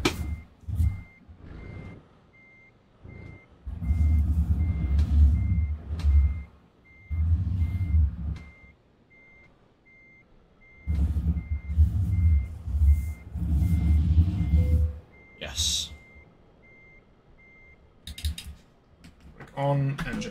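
Reversing beeps from a truck parking in a trucking video game: a steady, evenly spaced beeping runs throughout, over a rumbling engine that swells and fades, with some keyboard clicking.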